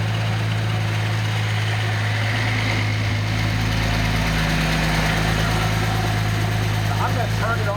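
Nissan 280ZX turbo engine idling on a test stand: a steady, loud low rumble with a constant hum, the idle settling slightly deeper midway, with someone talking over it throughout.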